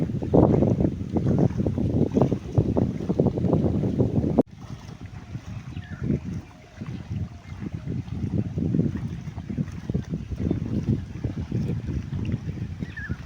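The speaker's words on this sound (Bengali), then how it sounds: "আর একটা বোট আসছে, ওই বোটটার জন্য দাঁড়িয়ে থাকি, তুলবো বোটটাকে।" A boat on a river comes from a distance, its engine a steady low rumble mixed with wind buffeting the microphone. The sound holds fairly even throughout with no voices.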